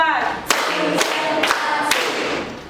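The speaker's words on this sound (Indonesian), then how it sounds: "Tepuk 1, tepuk 2, tepuk 3, tepuk 4" Several people clap together in a steady counted rhythm, four sharp claps evenly spaced, with a voice speaking between them.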